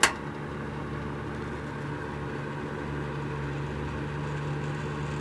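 An electric space heater running on its low setting gives a click at switch-on, then a steady low electrical hum with a constant tonal drone, unchanging and close, with no talking.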